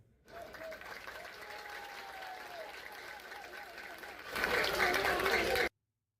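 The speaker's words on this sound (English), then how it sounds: "With raucous applause, he is met with." Crowd applause rises over a murmuring background, then swells into a louder, denser burst of clapping and noise near the end before cutting off abruptly.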